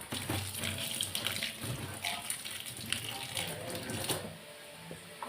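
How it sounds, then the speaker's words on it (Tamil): Tap water runs steadily into a sink while coriander leaves are washed, a continuous splashing rush with light clatter throughout. "இதை முதல்ல கழுவிக்கிறேன்."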